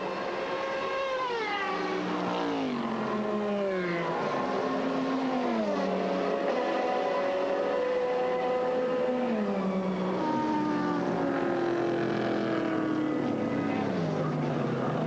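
A Porsche race car, the number 69 Kaiser Racing entry in a 2000 ALMS race, howls past with rising and falling engine pitch sweeps, the note shifting repeatedly as it accelerates and passes, loud and continuous throughout.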